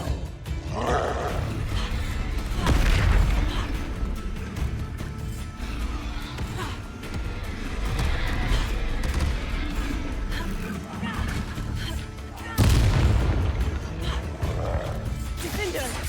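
Combat spells blast and crash through a fight in Hogwarts Legacy, with heavy rumbling impacts and roaring creature cries layered continuously, while voices shout over the din.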